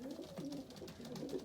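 Racing pigeons coo in an aviary, a soft, low, continuous murmur of overlapping coos, faint and close with no voices.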